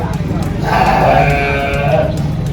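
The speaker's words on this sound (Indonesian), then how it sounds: "Kalau ini kambing-kambing dari mana ini Pak kambing?" Goats bleat at a local livestock market in Sleman during the sacrificial animal season, a sustained wavering cry rising over a steady low hum of crowd murmur and background noise.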